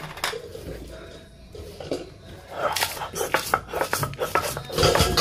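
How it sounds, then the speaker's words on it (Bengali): Dried chilies, onion, garlic, green chilies and salt being ground on a stone shil pata slab, rough scraping and rhythmic grinding strokes that grow busier and louder, with some clattering. "এগুলোকে ভালো করে শিল পাটায় বেটে নিতে হবে।"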